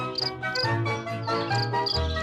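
A cricket in a children's audio fairy tale chirps in quick repeated bursts, a bright, continuous, close trilling song with no voice over it.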